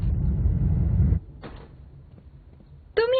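A door locked from the inside being opened, a steady low rumble that cuts off abruptly, followed by a short rattle and a faint quiet stretch, then a sudden sharp scrape at the end.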